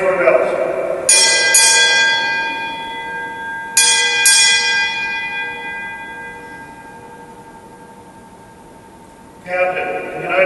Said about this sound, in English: Bosun, strike 4 bells.